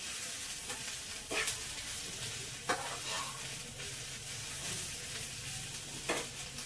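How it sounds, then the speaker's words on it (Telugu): Beetroot fries in a pan with a steady sizzle, and the spoon scrapes and stirs against the metal several times. No one speaks. "టైంలో మనం చక్కగా దీన్ని ఇలాగా వేయించేస్తున్నాం."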